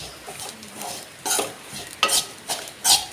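Chilli powder being stirred into dried prawn chutney in a pan, several distinct scraping strokes of a spoon over a faint sizzle, each stroke crisp and close, roughly every half second near the end.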